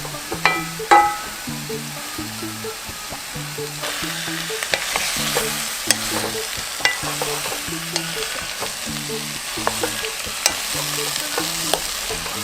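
Ingredients stir-frying in sesame-perilla oil in a pot for Korean radish soup, with a steady sizzle under frequent scraping stirs of a utensil, close and fairly loud throughout.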